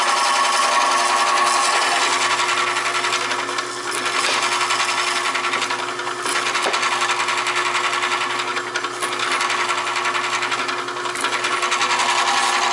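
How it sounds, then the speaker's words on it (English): Steady, high-pitched whine of a small power drill boring holes through a circuit board, running continuously at close range, with faint fluctuations as the bit bites through material. "the backside of that circuit board will crack out very badly when you drill the holes through it"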